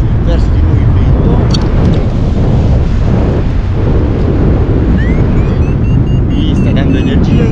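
Strong wind gusts roar across the microphone at a paragliding takeoff site in Alta Badia, a loud, continuous low rumble with brief whistling flutters.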